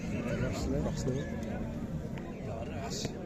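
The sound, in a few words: young male horses neighing at a livestock market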